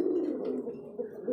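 Pigeons kept for sale give a brief, faint, low cooing murmur that lasts only a moment, with no other clear sounds.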